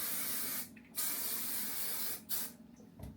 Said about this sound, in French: ce produit, c'est un humidity blocker de chez Joico, c'est un spray de finition